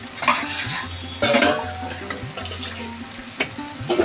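Prawns, potato chunks and pointed gourd fry in oily spice paste in a pan, a close sizzle broken by repeated scraping and clattering strokes of a spoon against the metal.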